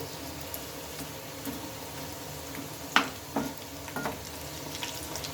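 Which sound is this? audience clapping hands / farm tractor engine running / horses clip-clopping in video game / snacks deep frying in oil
snacks deep frying in oil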